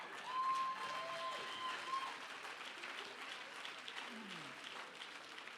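The audience at the 2022 NAA International Auctioneer Championship applauds as champion Nick Bennett takes the stage: sustained, somewhat distant clapping from a large crowd, heard alone at moderate volume.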